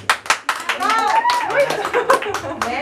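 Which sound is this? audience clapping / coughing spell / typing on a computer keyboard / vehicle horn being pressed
audience clapping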